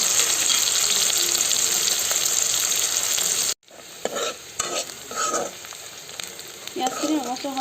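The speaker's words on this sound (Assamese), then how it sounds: "পিঁয়াজখিনি ৰঙচুৱা হৈছে" Onions fry in a pan, sizzling steadily for a few seconds, then stop abruptly. Quieter stirring and scraping sounds follow, with some clinks.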